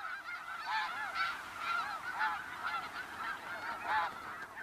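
Many geese honk loudly and continuously in an Arctic wilderness as they mob a wolf, calls overlapping in a dense, agitated chorus with repeated swells of squawking.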